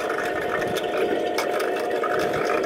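An EDM spark eroder cutting a workpiece while its settings are adjusted, giving a steady, dense buzzing crackle with a constant hum and faint irregular clicks throughout, fairly loud and unbroken, with no speech.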